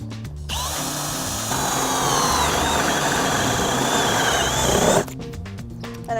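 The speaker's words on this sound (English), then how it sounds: "The first one I have is our multi-purpose hole saw, which we designed to cut through wood" A multi-purpose hole saw on a power drill cuts through wood in a loud, sustained grinding whine. The drill spins up briefly before and after the cut.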